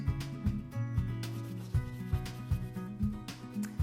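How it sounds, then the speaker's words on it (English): Hands rub and press fondant icing over a cake in repeated soft, rhythmic strokes, each with a dull thump or squeak, close-up and with no voices. "we keep smoothing the cake round, and we could use a fondant smoother, which is a really nice tool for getting a really nice flat surface"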